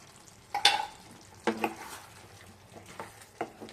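Butter garlic chicken is stirred in a frying pan, a few scraping strokes of a spoon against the pan over a low background sizzle, close and moderately quiet.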